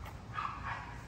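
Two dogs at a puppy-selling camp, one a merle, give a couple of short, close yips or barks within about a second over background noise.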